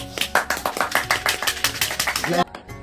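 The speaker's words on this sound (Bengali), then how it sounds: "হাততালি হাততালি হাততালি দাও।" Hands clap in a fast, steady run of sharp, loud claps at a birthday celebration, lasting a couple of seconds before stopping abruptly, with voices mixed in underneath.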